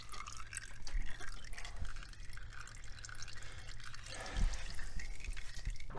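Milky, contaminated oil drains from a Porsche 911 Turbo (997) engine. A close, continuous liquid splatter and trickle falls into a pan, with a low rumble underneath.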